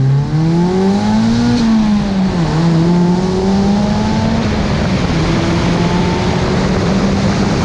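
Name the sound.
turbocharged Mazda Miata accelerating as turbo boost kicks in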